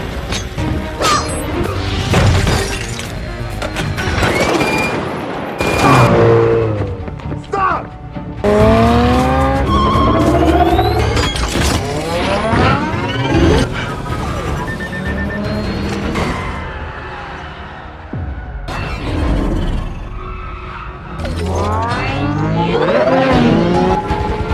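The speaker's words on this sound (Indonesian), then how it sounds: "Kejar-kejaran brutal pun terjadi di London, mobil hancur, sepeda motor terbang" A brutal car chase tears through London as cars crash and motorcycles fly, with loud engine roars, screeching tires and impacts. A narrator's voice talks over it throughout.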